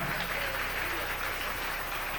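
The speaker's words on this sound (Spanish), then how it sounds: "Dele un aplauso al Rey en esta preciosa mañana." A church congregation applauds during a Spanish-language Sunday morning sermon, a faint, steady wash of clapping heard from a distance that holds evenly throughout without any voices.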